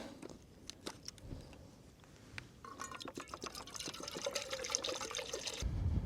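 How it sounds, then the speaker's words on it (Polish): Water pours and trickles steadily, building in volume, with a few light clicks and knocks of handling at the start. "Ulewamy wody."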